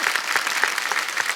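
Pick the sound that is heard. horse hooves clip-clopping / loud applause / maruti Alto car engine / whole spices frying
loud applause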